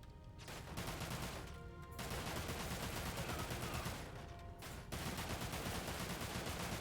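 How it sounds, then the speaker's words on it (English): Sustained rapid gunfire from a gun in the video game Dirge of Cerberus, dense continuous bursts with two brief pauses, loud and close. "I have to shoot so many times to kill one person with this gun"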